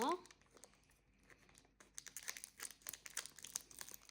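Scissors cutting paper during a hands-on class in Nuwara Eliya, Sri Lanka: close, crisp crinkling snips and rustles in an irregular series, with people talking nearby.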